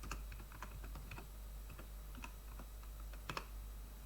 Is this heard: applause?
no